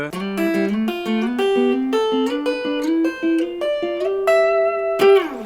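Plucked guitar notes and chords slide up the neck through a chord scale, climbing steadily upward in a smooth stepwise pattern, each ringing briefly before the next, played alone and up close.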